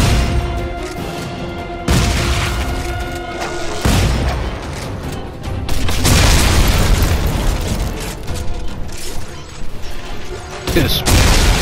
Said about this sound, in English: Oh, this shotgun is nasty.